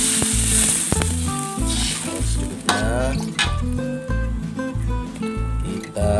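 Water hits frying spice paste in a pan while cooking black pepper crab, bursting into a loud, steady sizzle with repeated scraping stirring strokes throughout.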